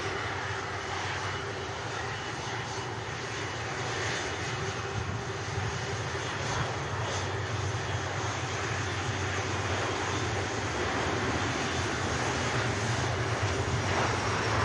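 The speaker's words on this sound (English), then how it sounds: "Logan Air about to depart." Loganair aircraft departing Manchester Airport, its engines roaring loud and steady throughout the take-off run, with no talk over it.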